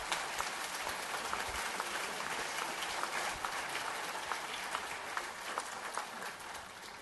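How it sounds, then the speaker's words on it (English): An audience applauds after a talk on motivation, a broad continuous wash of clapping from a large hall, steady and somewhat distant throughout. "Or you can applaud."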